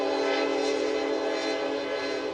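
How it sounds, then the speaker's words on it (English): A southbound freight train with a couple of engines rolls past behind right field at a Sunday college baseball game, its piercing horn blaring as one loud, sustained, steady chord throughout, with no talk over it. "That train wanted to make its presence felt and did so with a piercing horn behind right field."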